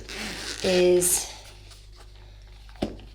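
A zipper on a travel case holding a DJI Osmo Pocket is pulled open in one short, quick rasping stroke, close up, followed by a faint rustle, while someone briefly speaks.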